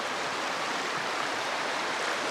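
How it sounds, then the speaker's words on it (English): A stream rushes steadily at a rocky water crossing on a long hiking loop trail, a close, continuous broadband wash of flowing water with no voices. "So here's the second water crossing."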